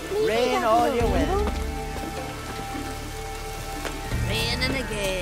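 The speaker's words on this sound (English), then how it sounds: "Raining again." Steady rain pattering down in The Witcher 3 video game, a continuous hiss over soft ambient music and game sound effects.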